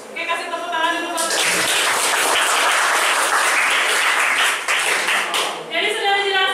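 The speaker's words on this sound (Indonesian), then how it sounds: "kasih tepuk tangan dulu, Pak" A classroom audience claps after a lesson on the hydrologic cycle, a loud burst of dense applause lasting several seconds, with a voice talking just before and after it.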